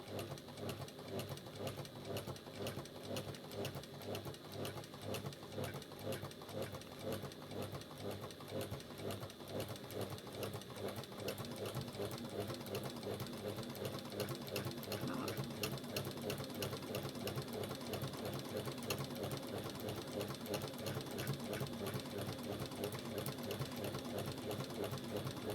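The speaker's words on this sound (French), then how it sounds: "La machine a besoin d'une bonne révision. Donc elle fait du bruit." A sewing machine in need of servicing runs continuously while stitching foam onto the back of a piece, a loud, fast, rattling mechanical chatter with a steady knocking rhythm throughout and no talking.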